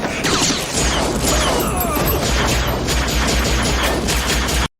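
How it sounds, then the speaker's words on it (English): Futuristic gunfire from the 1994 film Timecop: a loud, dense burst of rapid metallic shots and clattering mechanical impacts over a low rumble, continuous for several seconds before cutting off abruptly. "And the way these guns sound, I swear, future guns just shoot loose change."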